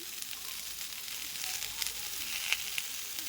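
Vegetables sautéing in a pan give a soft, steady sizzle with faint crackles and a few small pops, heard alone at low level throughout.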